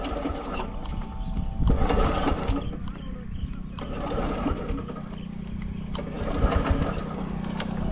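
A Honda SP125 125cc motorcycle with over 100,000 km on it starts and idles with a rapid, uneven mechanical chatter and a low, steady engine hum close by.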